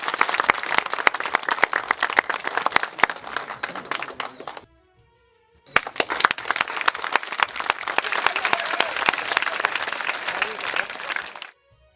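Loud audience applause at an honouring ceremony, a dense crowd clapping close and strong, briefly cut to near silence midway before a second long burst of clapping resumes and then stops.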